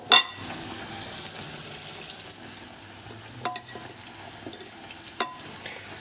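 Food fries in a pan with a soft, continuous sizzle, broken by a few sharp clinks and scrapes as it is stirred.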